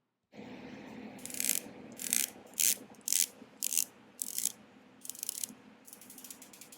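A Revelot Hexmariner 39 dive watch bezel ratchets in about eight short bursts of crisp clicking, very close, separated by brief pauses, over a faint background hum.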